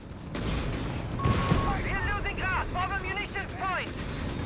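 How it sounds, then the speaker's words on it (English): Marder tank gun firing in Company of Heroes 3, heard amid a dense battle of booms and gunfire, with a caster talking over the combat throughout. "And we got the Marder shoots and misses."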